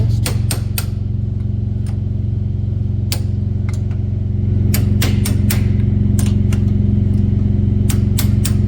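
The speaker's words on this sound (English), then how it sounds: "I'm going to drive my pins in first." Pins being hammered into an air-cooled 2.7-litre engine of a 1974 Porsche 911, sharp metallic taps in irregular clusters over a steady loud low hum, close by.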